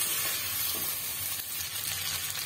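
Basmati rice frying in a pan for chicken biryani gives a steady, even sizzle that holds at the same level throughout, with no voices.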